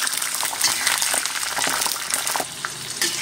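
Peanuts frying in hot oil together with red curly chilies and garlic, a steady dense sizzle with crackling bursts running throughout, close and fairly loud with no talking.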